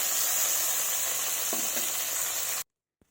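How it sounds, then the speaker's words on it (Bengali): Okra fries in a pan with a dense, close sizzling hiss and a couple of stirring knocks, then the sound cuts off abruptly into silence. "এইভাবে ঢেঁড়সগুলো ভেজে নিচ্ছি"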